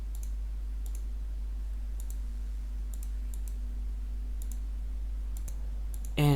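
Sharp, isolated mouse clicks on a Windows 11 computer, arriving singly and in quick pairs at irregular intervals over a low steady hum, with a louder burst at the very end.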